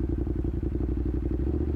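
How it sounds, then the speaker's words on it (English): A motorcycle engine rumbles close by with a steady, fast pulsing throb, idling loudly throughout as the rider parks. "I'll show you my motorcycle right now in a bit as I park"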